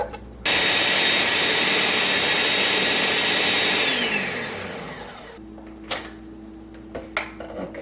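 A kitchen blender purees fruit such as melon and berries for freeze drying, roaring loudly and steadily for several seconds, then winding down, followed by a few faint clinks and knocks.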